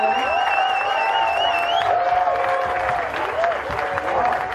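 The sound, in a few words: audience applause at school annual day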